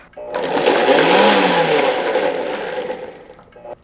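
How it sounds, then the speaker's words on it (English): A blender whirs steadily, close and loud, pureeing a chunky chipotle sauce with lime juice and salt, running for about three seconds before cutting off. "Now we'll blend it."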